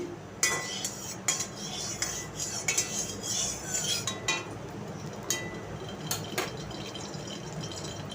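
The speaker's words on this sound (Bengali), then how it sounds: "তেলটাকে আমি কড়ার চারদিকে ভালো করে বুলিয়ে নিচ্ছি" Rice oil spread around a kadai, a wok, with repeated metallic scrapes and clinks of a spoon on the pan over a low background, the strokes irregular and fairly close.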